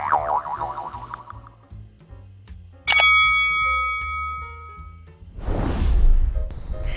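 A bright, ringing bell ding strikes once and lingers with a clear sustained tone, preceded by soft chiming notes and followed by a whooshing swell.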